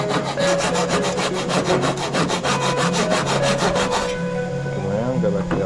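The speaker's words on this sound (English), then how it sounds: "I'll use the sander and cut and sand off that ugly bit" Power sander grinding steadily against a carved wooden Murray cod fishing lure, a loud, continuous buzzing abrasion with a fast rhythmic pulse that changes pitch near the end as the tool's load shifts.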